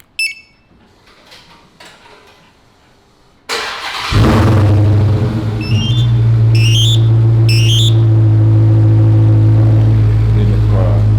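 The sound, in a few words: Dodge Hellcat remote start via Compustar Pro T13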